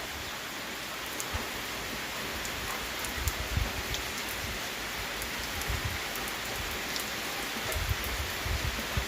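Rain keeps pouring over a village yard in a continuous hiss, with drips falling from a roof and clicking irregularly nearby. No voices are heard.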